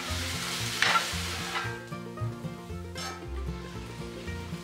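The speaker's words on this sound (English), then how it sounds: "into the same pan, add oil, saute crushed ginger garlic green chili paste" Crushed ginger, garlic and green chili paste sautéed in hot oil in a pan just used for frying prawns, giving a steady close sizzle with stirring scrapes and music underneath.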